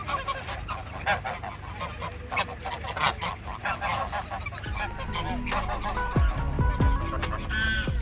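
A flock of geese in a lakeside park at Pamukkale, Turkey, honks in loud, rapid bursts close by, the calls crowding together with faint voices and footsteps around them.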